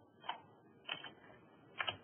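A computer keyboard being typed on, three separate short bursts of crisp clicking keystrokes, close up in a quiet room.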